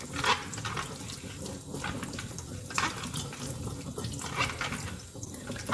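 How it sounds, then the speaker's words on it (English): An apple is rinsed under a running kitchen tap, and the water splashes steadily and close by, its hiss rising and falling a little as the fruit turns in the stream. "Give it a quick final rinse."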